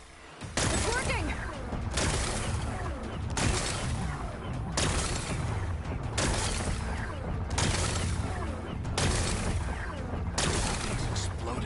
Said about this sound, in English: It's exploding.